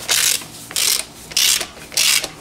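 A socket tool is turned on an engine, giving a close ratcheting rasp in four even strokes with brief pauses between them.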